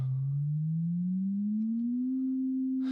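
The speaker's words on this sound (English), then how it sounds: "If I was to increase the frequency of this sine wave, so like before, I'll raise it by an octave." A steady pure sine tone glides smoothly upward by an octave, then holds at the higher pitch, alone and clean with no other sound.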